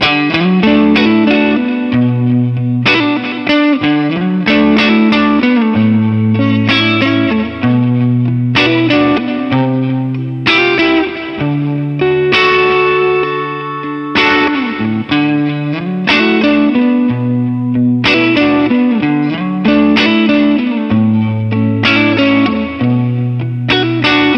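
Overdriven electric guitar through a Rivera-era Fender Concert amp's overdrive channel, playing chords and riffs with a gritty, saturated tone and some effects, loud and continuous with rhythmic strummed bursts.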